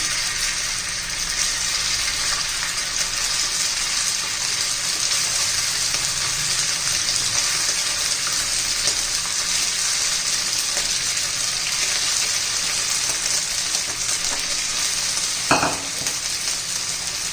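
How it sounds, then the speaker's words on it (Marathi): Chicken pieces fry in hot oil with a steady, loud sizzle that continues unbroken throughout, with a brief clink near the end. "आता तो आपला एक एक पीस आपण सोडून घेऊया तेल गरम झालेले आपलं"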